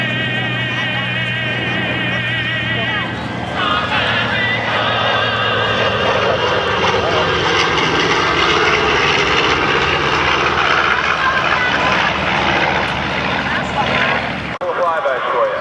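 A large, enormous military aircraft flying low past the crowd at an air show at Barnes ANGB: loud, steady propeller-engine drone with a whirring tone lasting throughout, while someone talks over it on a public address.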